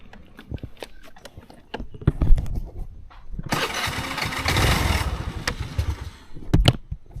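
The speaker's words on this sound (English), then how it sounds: "Right after starting the motorcycle," Motorcycle engine cranking and catching briefly, running rough for a couple of seconds with a broad roar, then cutting out and falling quiet amid scattered knocks.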